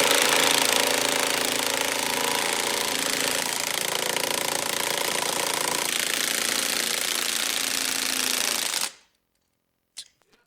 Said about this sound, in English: I'm going to use an impact with a 15mm socket.